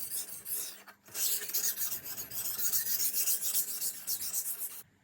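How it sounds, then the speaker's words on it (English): A Senzo santoku knife is honed on a 1000 grit whetstone, producing a close steady wet rasping of repeated strokes with a brief pause near the start, no talking. "Then we move up to a 1000 grit medium stone to form a burr evenly throughout the blade."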